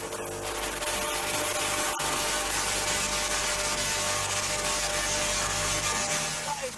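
Loud, steady crackling buzz from a Tesla coil discharging about a million volts into the air, a dense broadband hiss with a low hum beneath it that runs continuously, close by and without a break.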